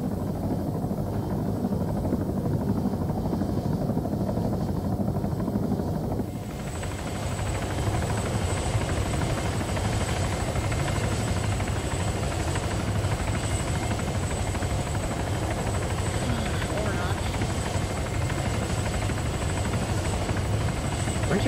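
A video game helicopter takes off with a continuous whirring rotor drone. The drone stays loud and steady, and its tone shifts about a third of the way through as it lifts away.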